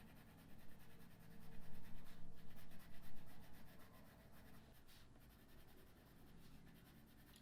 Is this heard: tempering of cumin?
no